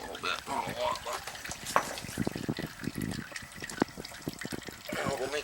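Leftover oil dribbles from an old 275-gallon heating oil tank into a makeshift container, a faint irregular trickle under a man's speech.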